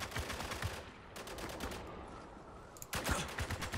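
Mounted turret machine gun firing in Spec Ops: The Line, with dense rapid bursts that pause briefly mid-clip before another loud volley at the end.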